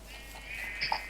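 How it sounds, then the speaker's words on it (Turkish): A sheep bleats in a Minecraft survival game, one short mid-pitched bleat near the end over a steady background hum, with no talking. "şu koyunları alayım ben"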